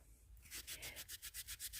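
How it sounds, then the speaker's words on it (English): Dried Rit dye being scratched and rubbed off a hard surface: a quiet, rhythmic series of about ten short rasping strokes, steady back-and-forth scrubbing with no voices. "Let me see if I can rub it. I'm scratching it off."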